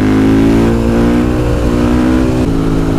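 A KTM 500 EXC supermoto single-cylinder engine fitted with an FMF exhaust pipe runs close by with a loud, steady, throaty note that holds for the whole stretch, with a slight shift in tone near the end.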